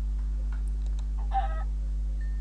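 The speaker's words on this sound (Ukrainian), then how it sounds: "Курка. О, два пірячка випало." A chicken in the Minecraft video game gives a short, mid-pitched clucking burst partway through, over a steady low background hum with a few faint clicks.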